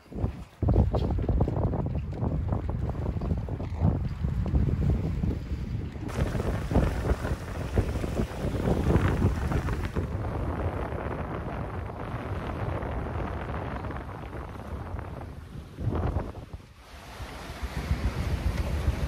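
Wind roaring over a sailboat heeling at about seven knots, steady buffeting mixed with water rushing past the hull, loud and continuous with no talking.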